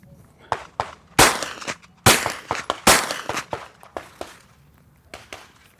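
Suppressed gunshots come from a CGS MOD-9Sk suppressor in its smaller configuration, fired with 115 grain Blazer standard velocity ammo: a series of sharp, close cracks in irregular succession, several louder reports followed by quieter ones.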